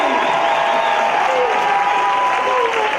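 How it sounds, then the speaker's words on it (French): A crowd applauds the mayor at a 2016 Adventist camporee gathering, steady dense clapping that fills the whole stretch at close range, with voices mixed in underneath. "Est-ce que vous pouvez applaudir Monsieur le maire très fort, très fort, très fort."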